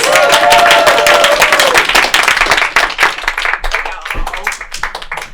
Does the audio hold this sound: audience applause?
yes